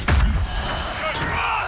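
A thrown flask bursts in Dragon Age: Inquisition, giving one sharp, loud blast at the start that trails into a crackling, fizzing decay, with a second, softer burst near the end.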